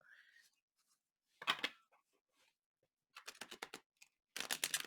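A thick, stiff tarot deck is being shuffled in bursts of crisp riffling card noise. The bursts are separated by short quiet gaps and finish with a louder final riffle.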